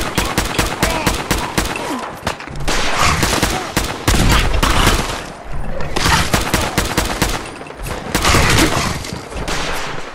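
Rocket launcher fire and explosions in Fallout 4 combat: dense, loud volleys of blasts and gunfire pound in irregular waves, close and overlapping, with little pause between bursts.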